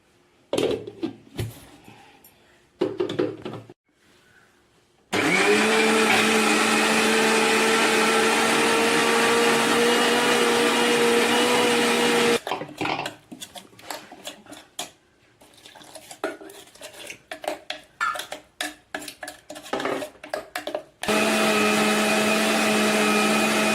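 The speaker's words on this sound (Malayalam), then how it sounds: "ഇനി ഇത് നമുക്ക് നന്നായി മിക്സിയുടെ ചാറിലിട്ട് അരച്ചെടുക്കാം" A kitchen mixer grinder grinds coconut paste for fish curry in two long, loud whirring bursts, separated by clinks and rattles of the jar and lid being handled, with no talking.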